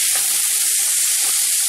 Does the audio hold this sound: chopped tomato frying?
yes